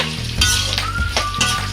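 Mustard seeds and spices tempering in hot oil for raw mango pulihora, sizzling and frying steadily at close range with occasional stirring clinks, no talk.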